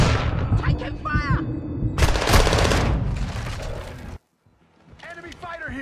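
Dense gunfire from the video game Modern Warfare 2 crackles in loud bursts along with booms and shattering, under radio-style voice callouts, then cuts out briefly before more talk resumes.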